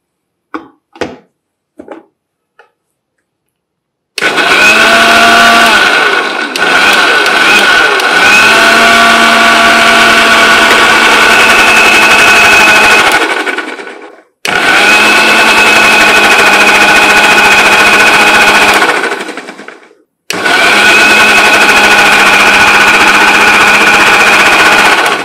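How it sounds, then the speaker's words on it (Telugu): Mixer grinder blending pomegranate, cucumber, curd, water and basil seeds into juice, a loud whining motor run in three long bursts separated by short pauses, preceded by a few quick clicks, with no talking. "ఓకే మనం మిక్సీ పట్టుకుంటే సరిపోతుంది"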